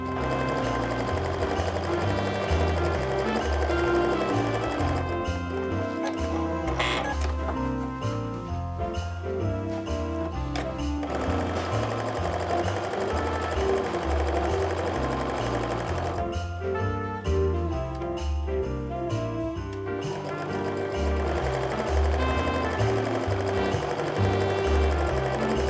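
A sewing machine chain-pieces quilt fabric for a small mug rug, running in a continuous loud mechanical whir with a fast repeating stitch rhythm and only short slowdowns, close up with no talking.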